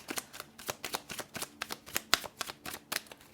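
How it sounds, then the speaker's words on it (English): Tarot cards being shuffled and pulled make a steady run of quick papery riffles and flicks at an even rhythm, close by and soft, with no voice over them. "I need to pull out some more cards"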